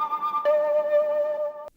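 Wet synth tone for a nostalgic jungle or drum and bass track, two sustained notes with tape and noise effects, a soft wavering pitch and a faint hiss underneath, heard alone.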